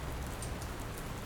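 Rain falls steadily in the video game Dr. Langeskov, The Tiger, and The Terribly Cursed Emerald, a soft, continuous patter and hiss with no other sounds.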